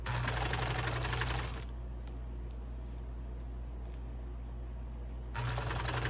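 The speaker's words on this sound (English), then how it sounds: "Sewing straight across, like this" A sewing machine runs close and loud while stitching a hanging dish towel, a fast even mechanical buzz that stops, leaves a quiet pause with faint clicks, then starts up again.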